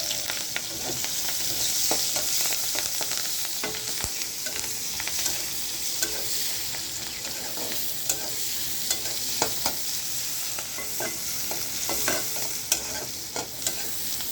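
Onion, garlic and green chili sizzle in hot oil for a fish curry with green banana, stirred constantly. The frying hiss stays steady and close, with frequent sharp scrapes and clicks of the spoon and no voices.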